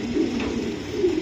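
Racing pigeons coo close by in a loft, two soft throaty rolling coos in quick succession.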